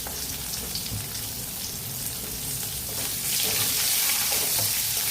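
Onion dropped into hot oil with crackling mustard seeds and curry leaves, a dense, even sizzle that swells louder near the end, close up and without speech.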